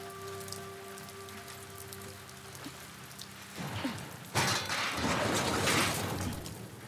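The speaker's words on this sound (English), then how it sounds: "I mean, it is raining." Steady rain falls in The Last of Us Part 2, a soft patter on surfaces that swells louder partway through, with faint tonal game ambience underneath early on.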